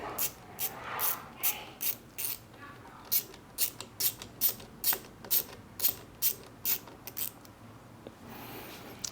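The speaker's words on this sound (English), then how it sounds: "I'm going to just go ahead and hand tighten these a little bit to get one side done" An optic scope mount's screws being hand-tightened, a run of about a dozen quick, evenly spaced ratcheting clicks, close and clear over a quiet room.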